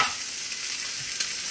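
Ginger, mushrooms, asparagus, onions and carrots stir-frying in a hot pot give a steady, loud, close hiss of sizzling with faint stirring scrapes, and no one speaks.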